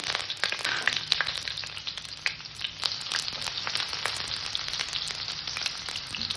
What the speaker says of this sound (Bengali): পেঁয়াজটাকে আমি হালকা করে ভেজে নেব